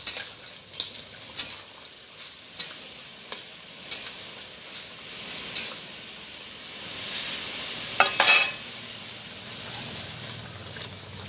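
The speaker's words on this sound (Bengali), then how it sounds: "বন্ধুরা এখন আমি ভেজে রাখা কুমড়ো বড়িগুলো দিয়ে দেবো" Fried pumpkin bori tipped into a nearly finished eggplant and potato curry and stirred in the pan: repeated sharp spatula scrapes and clinks over a soft, steady sizzle, close and fairly quiet.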